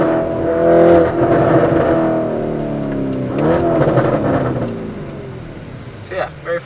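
An 800hp RYFT-tuned Lamborghini Urus engine rises and falls through revs and shifts, with sharp exhaust crackles near the end while someone talks over it.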